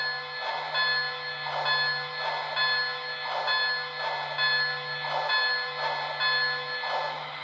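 A Lionel HO scale Polar Express model train's Railsounds bell rings steadily and loudly, clanging in an even repeating rhythm of about one stroke per second, close and alone with a faint electronic hum beneath.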